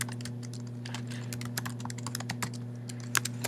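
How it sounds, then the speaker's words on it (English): Fingers tap out an email address on a computer keyboard in a quick, irregular run of close, light key clicks over a steady low electrical hum. "You'll need to type it twice."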